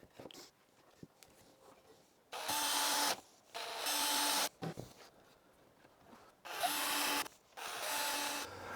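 Power screwdriver driving screws into the corners of a wooden beehive eke, several loud whirring bursts of a second or so each, broken by quiet handling clicks and wood knocks.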